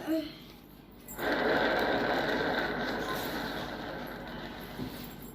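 A prize wheel spins in a family spin game, giving a steady whirring rattle with fast clicking that starts abruptly and runs on, slowly fading as it turns.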